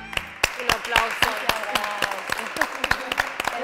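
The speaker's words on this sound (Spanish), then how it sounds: "Un aplauso." A studio audience claps for guest Mercedes Scápola on an Argentine TV program, a brisk burst of applause with sharp individual claps standing out, close and lively.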